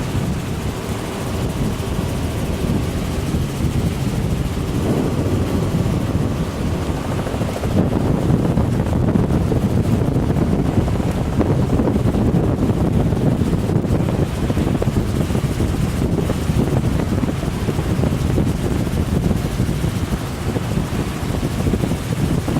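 Steady, roaring wind noise buffets the microphone aboard a helicopter flying low over a river-mouth mud flat, a constant dense rumble with no clear break and no voices.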